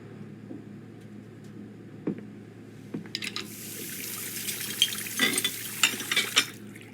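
Dishes are washed in the video game Life is Strange: True Colors. Water runs and splashes while plates and cutlery clink, quiet at first and then busier and louder, with no voices.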